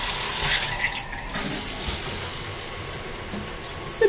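Hotel shower head running water, a steady hissing spray with a few slight shifts in tone as the flow is disturbed, close by with no talking.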